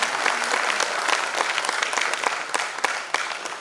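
Applause from an audience at the opening session of the Bihar Gaurav festival in Patna, steady and fairly thin, with dense clapping running evenly throughout and no voices above it.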